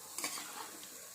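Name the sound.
stirring chicken with turmeric powder in a pan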